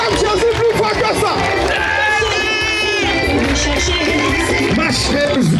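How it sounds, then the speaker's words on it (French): A standing church congregation cheers and shouts praise for Jesus, a loud continuous roar of many voices with music ringing through it. "On se tient debout pour acclamer Jésus."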